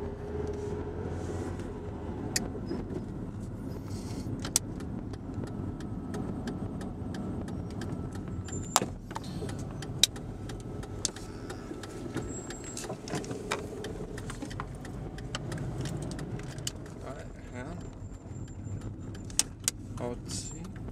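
A car driving along a road, its steady engine and road rumble running continuously with occasional small clicks and rattles inside the cabin, fairly close and moderate in level.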